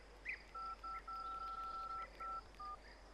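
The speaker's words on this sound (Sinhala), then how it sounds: "ගාලා කෝල් එකක් ගනි" A quiet sequence of about six telephone keypad dialing tones, one held noticeably longer than the others, sounds by itself with nothing else over it, as a number is punched in during a comedy film scene.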